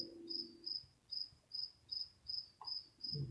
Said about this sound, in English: Like the crickets out there